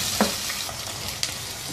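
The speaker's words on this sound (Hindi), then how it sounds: "अब इस प्याज को 2-3 मिनट पकाएंगे ऐसे ही हिलाते हुए" Sliced onions fry in a pan for a mutton dish, giving a steady close sizzle broken by two brief scraping clicks from a stirring spoon, with no one talking.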